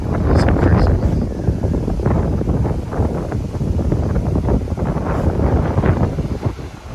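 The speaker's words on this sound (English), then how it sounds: "it is crazy windy, crazy sunny. Also crazy windy." Strong wind gusts buffet the microphone beside the ocean, a loud, continuous roaring rumble that swells and eases across the whole stretch with no speech.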